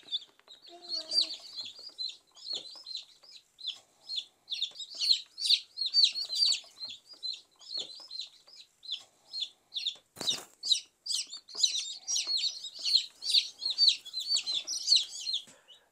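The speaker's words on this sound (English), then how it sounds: "we're gonna get these guys into the brooder with our other chicks" Baby chicks in a brooder cheeping: a dense, continuous chorus of high, rapid peeps from several birds close by, with occasional faint voices in the background.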